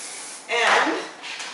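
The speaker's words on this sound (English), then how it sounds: "I'm just going to spray." Hairspray hisses from a can onto freshly cut short hair in one burst of about half a second, close and fairly loud, with a fainter puff just after.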